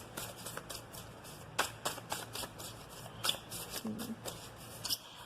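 Oracle cards being shuffled by hand in a close, steady run of soft riffling flutters and light slaps, several quick bursts in a row, with faint low background hum.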